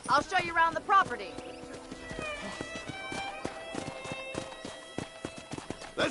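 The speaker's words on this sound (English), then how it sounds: "let's see if you can still ride a horse" Steady clip-clopping horse hooves in an even trotting rhythm in the video game Red Dead Redemption, with a horse whinny near the start and background music throughout.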